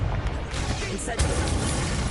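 A burst of fire from the Incendio spell in Hogwarts Legacy, a loud, dense whoosh of flame with a sharp surge partway through, set against constant game noise.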